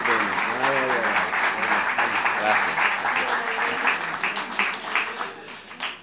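Audience applause at a book presentation in Barcelona, a sustained wash of clapping that gradually thins out, with a voice speaking over it at the start.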